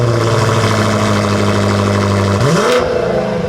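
A BMW M8 Competition's engine drones steadily at a low, even idle, then its pitch sweeps upward as the revs rise in a brief burst before settling again, loud and close with no talking.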